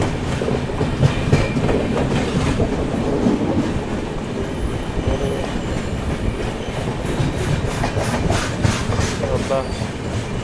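The Howrah–SMVT Bengaluru express rolls along its rails with a loud, continuous rumble and rhythmic clickety-clack of wheels over rail joints, heard up close from on board for the whole stretch.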